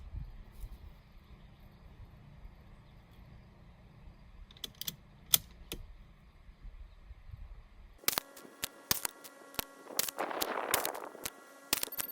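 A rifle scope turret is dialed in quick sharp clicks: a few isolated ticks first, then a dense burst of rapid clicks in the latter half, close and crisp over a quiet background.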